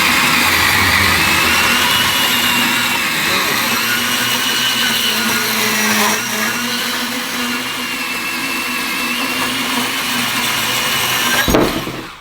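A Ryobi 18V cordless band saw cuts through pipe with a loud, steady whirring drone and a grinding blade edge, ending with a brief clunk as the cut finishes.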